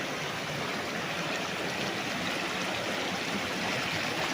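River water flowing along the boundary of a farm lot in Liliw, Laguna, a steady broadband rush with no pauses, close and even throughout.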